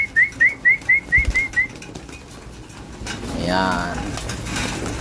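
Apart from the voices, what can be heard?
racing pigeons cooing and flapping while feeding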